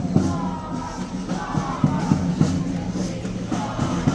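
A crowd of protesters against welfare and disability cuts in a London street near Horse Guards, with a steady outdoor murmur of many voices and scattered thumps of movement close by.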